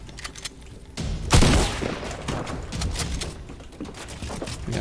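A rapid burst of Fortnite gunfire, sharp repeated shots crackling together, followed by scattered quieter pops.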